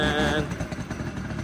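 A 50cc motorcycle engine runs with a steady, buzzing putter, close and fairly loud, with faint rattling underneath.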